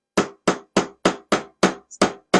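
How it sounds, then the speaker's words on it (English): A small hammer taps into very soft wood during a home decor craft, with eight sharp, evenly spaced strikes close up and loud, each decaying quickly into silence. "So I've got this handy dandy little hammer, and this is really soft wood"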